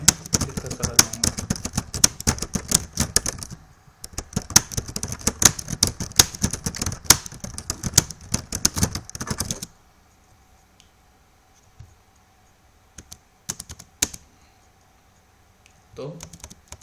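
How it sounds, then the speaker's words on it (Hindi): Rapid typing on a computer keyboard while writing in MS Word, dense bursts of close key clicks for about ten seconds with a brief pause, then near silence broken by a few isolated taps. "अगले पैराग्राफ को लिखने के लिए मैं एंटर की दबाऊंगा और इसमें मैं लिखता चला जाऊंगा।"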